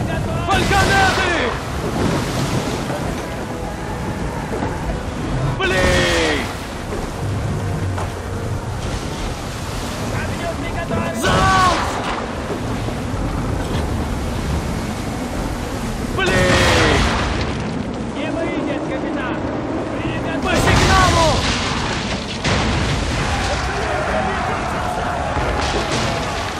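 Repeated heavy booms of ship cannon and swivel-gun fire at sea in a storm in the video game Assassin's Creed III, over roaring wind and surf, several blasts spaced a few seconds apart, loud and close.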